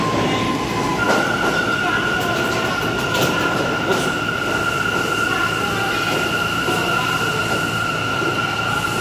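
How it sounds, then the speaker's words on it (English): An R179 subway train on the A line pulling through 125th Street, bound for Rockaway Park, a loud continuous rumble of wheels with a sustained high squeal and rail clatter, no talk. "Hopefully this is an R179A turn of Rockaway Park."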